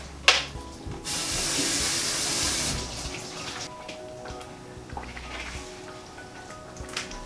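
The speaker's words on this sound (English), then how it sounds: "So I'm just going to drain these. Give them a quick rinse." Water from a tap runs loudly over lentils in a sieve for a couple of seconds during draining and rinsing, then gives way to quieter drips and light clatter.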